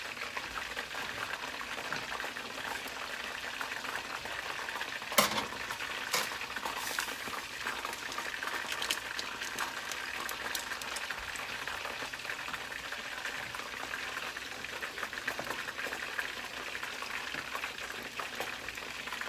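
Garlic and onion sizzle in a pot for turkey chili, a steady close frying hiss that runs throughout, with an occasional clack of a utensil being stirred against the pot.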